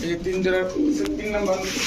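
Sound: pigeons cooing

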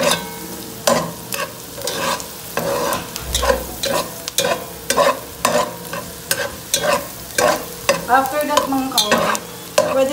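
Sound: garlic frying and being stirred in a pan

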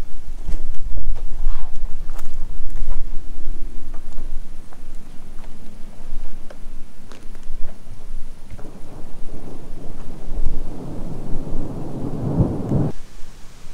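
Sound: thunderstorm with thunder and rain

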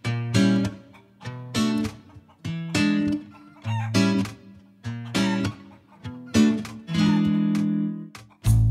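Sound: chickens clucking

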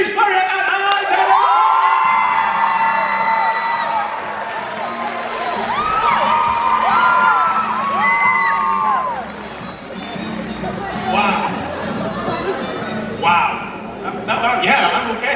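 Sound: audience applause and cheering

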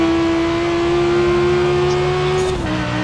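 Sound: car engine in video game Forza Horizon 4

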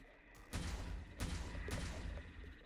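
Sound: fireworks-like explosions in video game Devil Daggers

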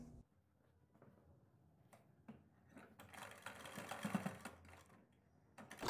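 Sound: sewing machine stitching kurti neckline

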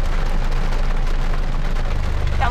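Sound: rain falling during camping

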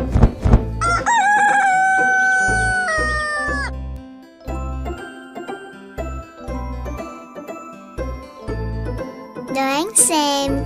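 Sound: rooster crowing in children's cartoon

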